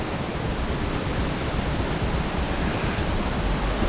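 Strong wind roars steadily across a high mountain hiking trail on Mount Lawu, a broad, continuous gusting rush with no break, loud and close, with no voices.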